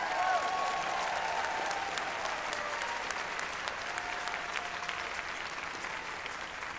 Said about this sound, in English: can we give a big round of applause to the tech deck who's staying a little bit late for us?